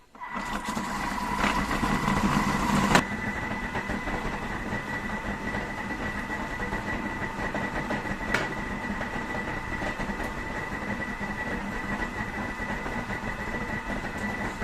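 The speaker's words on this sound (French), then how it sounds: "je lance mon mode épluchage. Ça tourne vitesse 4." A Thermomix runs in peeling mode at speed 4, giving a steady, loud mechanical whir and rumble that holds without a break throughout.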